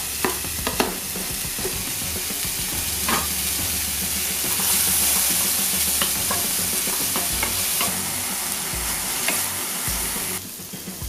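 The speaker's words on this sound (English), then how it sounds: "Then we want to put our bacon in." Bacon and garlic fry in a pan for seafood pasta, a steady close sizzle with repeated stirring and scraping clatter running throughout, no voices.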